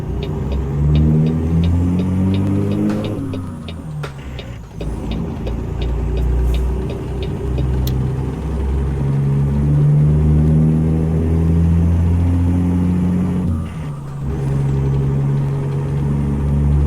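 Cat C15 6NZ diesel truck engine in American Truck Simulator, loud and close, deep rumbling drone that rises in pitch through the gears, with short drops at shifts and a brief pause midway.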